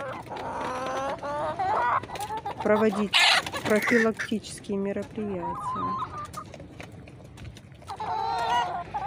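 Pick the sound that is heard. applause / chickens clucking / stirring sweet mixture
chickens clucking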